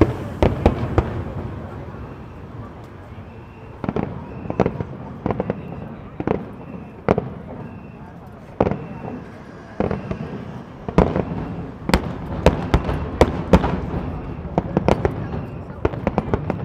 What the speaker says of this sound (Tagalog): Ang lakas ng paputok.